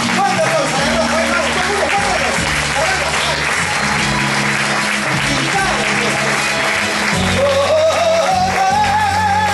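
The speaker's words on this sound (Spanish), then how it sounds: "Aplauso para Norma" Applause for a woman named Norma during a live performance of a song, dense steady clapping filling the space over a loud band with bass and singing, close and sustained throughout.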